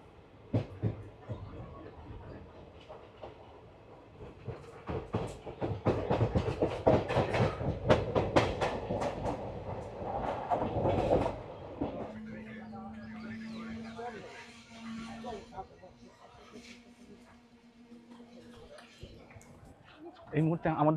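13431 Balurghat Express in a general coach running from Salar station, with rhythmic rumbling and rail clatter growing loud midway, then a steady hum as a voice speaks over the ride.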